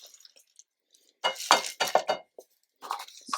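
A cup of washed lentils tips into a cooking pot holding onion and beef, with a few bright clinks and a wet pattering rattle in short bursts, close by.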